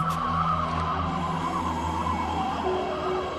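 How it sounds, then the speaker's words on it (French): A car racing through the night, its engine roaring at speed, a steady droning hum with a faint tire squeal, sustained and fairly close throughout. "une voiture qui course dans la nuit"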